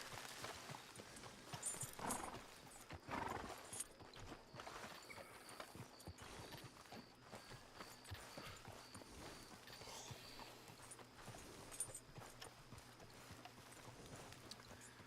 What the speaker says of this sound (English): Not enough players just walk their horse.